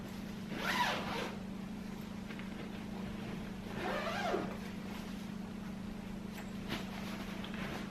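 The zipper on a couch cushion cover is pulled open in two quick rasping strokes a few seconds apart, close and fairly soft over a steady low hum.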